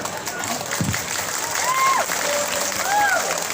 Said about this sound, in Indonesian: Kenapa tepuk tangan saudara?